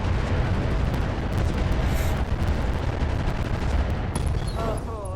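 A fire-and-forget weapons volley in the Roguetech BattleTech mod, a dense, continuous roar of rapid blasts and explosions, loud throughout, with a voice briefly heard near the end.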